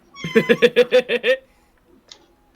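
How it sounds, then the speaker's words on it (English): A kitten meows in a quick run of about seven short, bright, evenly spaced cries, close and loud, followed by near silence. "I hear a kitten."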